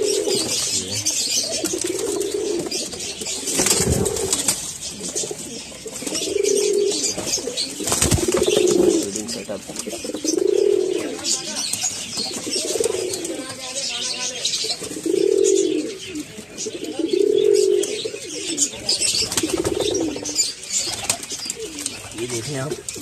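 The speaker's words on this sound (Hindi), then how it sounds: "ये सारे नीचे बैठे हैं, कबूतर बहुत हैं।" Pigeons in a loft coo in repeated low rounded calls with occasional wing flaps, a steady chorus of the flock close by while someone talks over them.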